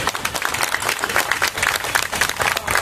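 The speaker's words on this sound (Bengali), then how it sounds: "তিনি জোরে করতালি দিন" Audience applause at a human rights organisation's stage event in West Bengal, a dense burst of many hands clapping steadily from a crowd, sustained throughout without speech.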